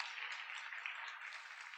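Steady, dense applause from a church congregation at a Korean Sunday service for Parents' Day, sustained and even for the whole span with no voices over it.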